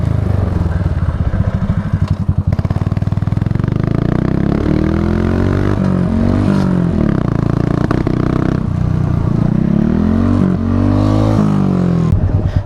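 Buell motorcycle engine revs loud and close while riding, with rising and falling pitch sweeps as gears shift, the bike seeming to miss a gear at times; steady throughout with no talk.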